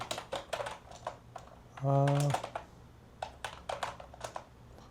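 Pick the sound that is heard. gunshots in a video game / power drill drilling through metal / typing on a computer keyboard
typing on a computer keyboard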